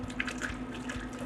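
Water sputters and gurgles as the filter canister of an E-Drill system drains, a continuous close wet splashing with a steady pump hum beneath.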